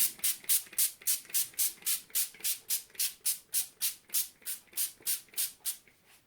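A spray bottle pumps rapidly onto cling film covering baguette dough, about twenty short hissing spritzes in an even rhythm, close and fairly soft, with no talking.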